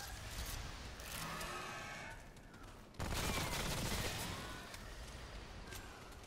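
Machine gun fire in the video game Remnant: From the Ashes, dense rapid bursts of shots crackling in two long volleys, loud and continuous, with no talk.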